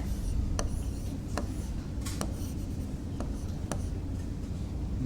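Writing a vector equation on a board, with continuous scratchy stroking and a few sharp tapping strokes, close and steady beneath a background hum.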